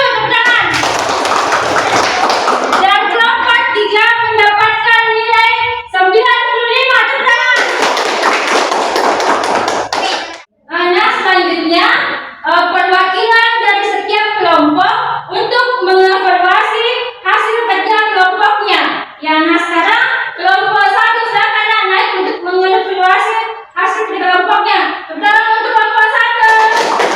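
Classroom applause for a group's score comes as two loud bursts of clapping near the start. A voice speaks in a long stretch between and after them, and the rest is mostly talk.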